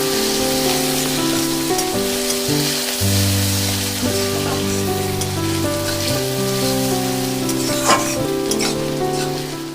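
Garlic, onion and green chili fry in hot oil for an egg tadka dal, giving a steady close sizzle with occasional stirring under continuous tonal background music.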